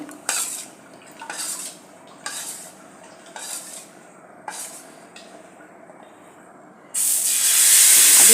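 A few metallic scrapes and clinks sound at steady intervals, then ghavan rice batter hits a hot new cast-iron tawa and a loud, continuous sizzle takes over.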